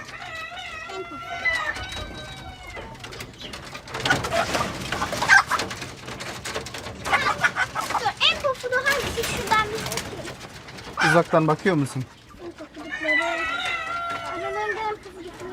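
Fluffy roosters and hens kept at a poultry spot cluck and coo in bursts, close and fairly loud, mixed with scuffling and rustling while people talk nearby.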